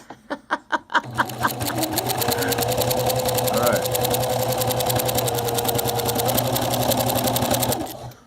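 A Singer sewing machine stitches quilt squares together, starting with a few slow separate thumps and then running into a fast, steady rattling hum that stops near the end.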